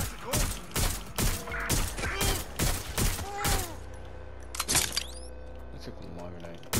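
Rapid bursts of gunfire from the Watch Dogs: Legion video game, a dense run of loud shots for several seconds, then scattered later shots under game sounds and a voice speaking.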